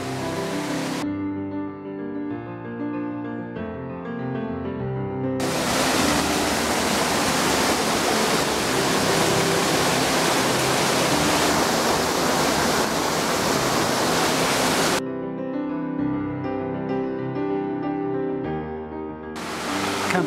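Rushing water in Mill Creek, a mountain stream once lined with tub mills, a broad steady roar heard loud and close in the middle stretch, framed by passages with musical tones at the start and end.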